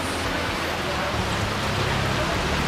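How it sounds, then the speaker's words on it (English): Rain falls steadily in Lombok, Indonesia, a dense, even hiss of drops that stays close and constant for a few seconds. "Rain again."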